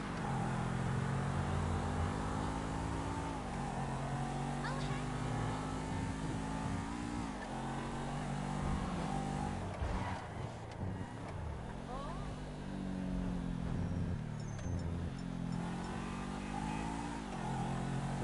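A car in GTA V drives steadily with a continuous engine drone that rises and falls through revs and gear shifts. Voices talk over it.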